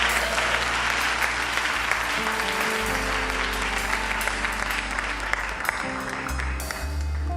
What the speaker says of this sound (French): On applaudit Jésus.